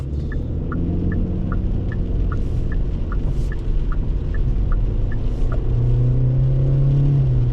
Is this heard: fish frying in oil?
no